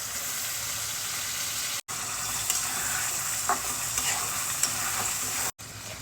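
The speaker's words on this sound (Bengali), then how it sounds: "তো এই পর্যায়ে আমি আমার কেটে রাখা সবজিগুলো এখন দিয়ে দিব" Chopped vegetables fry in a spice paste in a pan, making a loud, continuous sizzle with a few stirring scrapes partway through. The sound cuts out briefly twice, and no one speaks.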